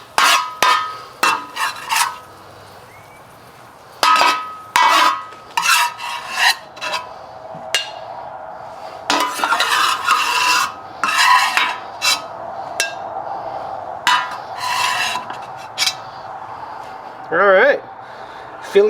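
A metal spatula scooping and scraping across a FireDisc griddle flat top after cooking Philly cheesesteaks, with loud, close, irregular rasping strokes and clanks between stretches of a person talking.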